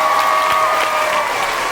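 School audience applause at a National Blue Ribbon School celebration, a loud, dense and continuous wash of clapping from a large crowd, close and steady throughout.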